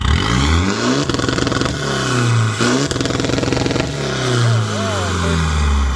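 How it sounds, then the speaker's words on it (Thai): A remapped Mitsubishi Triton pickup engine revs hard in repeated bursts, each bouncing against the limiter with a rapid stuttering crackle, loud and close. "ฟังเสียงเบิ้ลตัดครับ"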